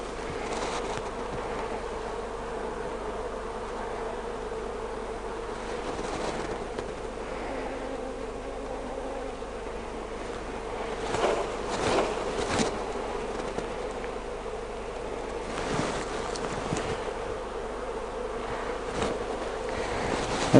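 Honey bees swarm around an opened top bar hive, giving a dense, steady buzzing close by for the whole stretch, with occasional louder passes and soft handling noises.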